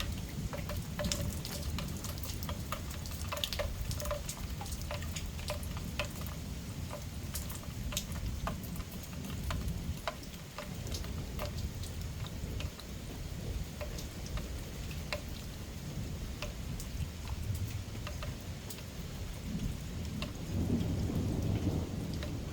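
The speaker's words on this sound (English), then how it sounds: "we're having the coolest thunderstorm" Nighttime thunderstorm during a garden tour, steady rain hissing on surfaces with repeated low rumbles of thunder rolling through, building louder near the end, no voices.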